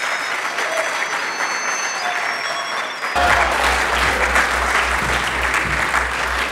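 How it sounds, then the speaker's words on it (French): An audience applauds a taekwondo champion with steady, loud, continuous clapping from a crowd, joined midway by a low rumbling hum underneath. "On reçoit la championne sous vos applaudissements"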